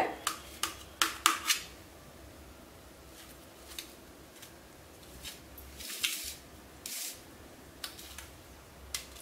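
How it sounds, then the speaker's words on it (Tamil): Knife cutting soft idli into small pieces on a board, heard as a cluster of quick light taps at first, then scattered soft clicks and thuds spaced apart, close and quiet with no talk. "இப்போ இந்த இட்லியை பொடி பொடியா கட் பண்ணிக்கணும்"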